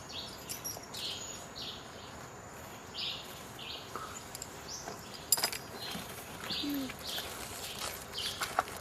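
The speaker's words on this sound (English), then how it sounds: "this is a clay colored robin, national bird of Costa Rica" Clay-colored robin, Costa Rica's national bird, calling in a tropical field setting: repeated faint chirps and tweets spaced across several seconds over a steady insect hum, with occasional sharper notes and no talking.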